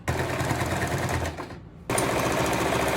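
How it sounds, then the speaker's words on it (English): A sewing machine stitching a bag seam with about a half-inch seam allowance, a loud, steady rapid whirring buzz that stops briefly and then resumes at full speed, close up with no talk. "using about a half-inch seam allowance, we're gonna sew all the way across"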